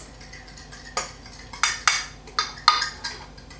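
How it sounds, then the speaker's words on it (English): A spoon stirs sugar and cinnamon in a bowl, giving a series of about seven irregular clinks and scrapes against the bowl, close and fairly quiet. "we're going to do some sugar and about half a tablespoon of cinnamon. And you're going to mix."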